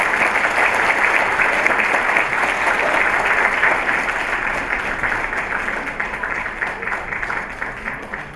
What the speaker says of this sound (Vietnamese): một tràng pháo tay nữa ạ